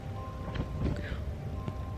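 A cat pounces on the sheets of an indoor blanket fort, giving soft fabric rustling and a few dull thumps close by, the heaviest near the middle, over steady low room noise.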